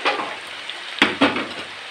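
Namak paray frying in oil over low to medium heat: a soft, continuous sizzle with a few sharp scrapes or clinks of stirring in the pan.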